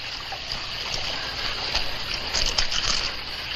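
Water streaming and trickling out of the ground in a dry, remote landscape, a steady continuous flow with small splashes, close and fairly loud throughout.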